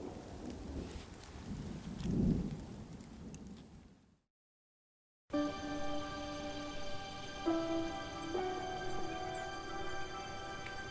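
Steady rain patters throughout at a winter campsite, with a low rumble of thunder early on; after a brief silent gap, rain continues with a faint high whine in the background.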